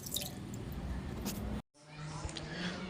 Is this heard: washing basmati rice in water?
yes